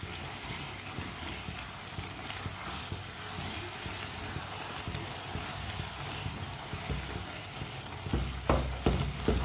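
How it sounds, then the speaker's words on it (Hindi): A spoon stirs semolina halwa in a pan as it browns, giving a steady soft scraping and faint sizzle throughout, with a few sharper scrapes near the end and no talk. "अब इसी तरह चम्मच चलाते हुए हल्का सा ब्राउन कर लेंगे।"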